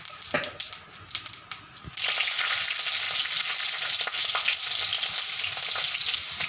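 Cumin seeds dropped into hot oil burst into a loud, steady sizzle that starts abruptly and holds for several seconds, preceded by faint clinks and stirring.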